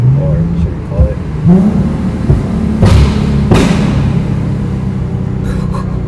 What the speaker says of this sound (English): That's pretty much the backfiring of the car.